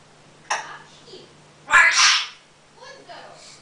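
A child sneezes once, sharp and loud and close, between short bits of nearby speech.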